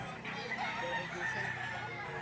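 Chickens cluck and a rooster crows amid a noisy crowded background at a chicken market in Lipa City, Batangas, the birds fairly close and mixed with general chatter.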